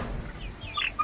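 A chicken clucks softly while being put into a new coop, a brief close call with a sharper cluck near the end.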